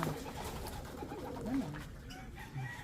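Racing pigeons coo in a loft, soft throaty rolling calls repeating close by over a busy background of other birds and faint movement.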